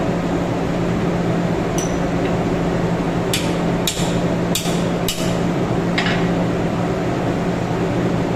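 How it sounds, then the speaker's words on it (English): A hammer knocks Loctited bolts on a L'Orange marine diesel fuel pump: about five sharp metallic strikes spaced roughly a second apart, heard close over a steady mechanical hum in the workshop. "these are Loctited in, so they need a bit of a hammer just to get them cracked off"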